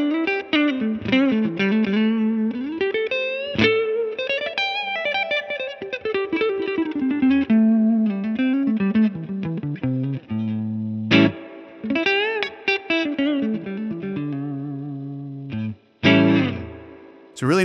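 Electric guitar played through an Amplitube 5 Mesa/Boogie California Tweed amp simulation, with clean-to-driven melodic phrases and sustained chords, ringing with chorus-like shimmer and reverb and switching tones via the pickup selector.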